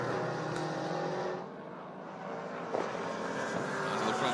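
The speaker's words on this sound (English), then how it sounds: "it's just got that high-pitched scream, and then that throaty V8 right behind it" Race cars at a sports car racing round roar past on a circuit, a high-pitched scream blended with throaty V8 engines, loud and continuous with a brief dip as one fades before the next passes close by.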